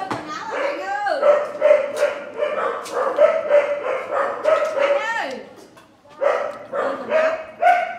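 Several dogs barking repeatedly nearby, mixing sharp barks with yips and whimpers in an irregular, persistent chorus, while a person speaks over the noise.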